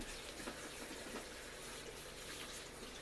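Red food coloring being poured into a pot while canning maraschino cherries, a steady close liquid pour running for about three seconds with no talk.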